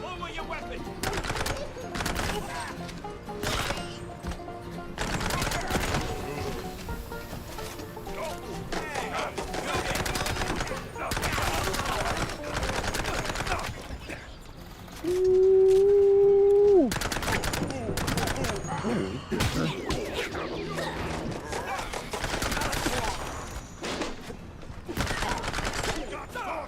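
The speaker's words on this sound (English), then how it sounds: "Never run at a man wielding a Tommy gun with nothing but a billy club." A Tommy gun firing in a detective video game, long bursts of rapid automatic fire spread across the scene, interrupted by voices speaking and a short tonal sound partway through.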